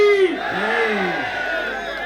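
A crowd at a wrestling match shouts a loud chanted response together, one rising and falling cry from many voices, then a lingering murmur.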